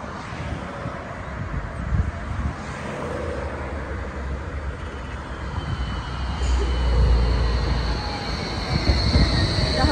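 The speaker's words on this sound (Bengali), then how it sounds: "এই তো একটা ট্রাম আসতেছে এদিক দিয়ে" A tram passes along a Berlin street, a steady low rumble of wheels on rails building louder toward the end with faint squeal, amid outdoor traffic ambience.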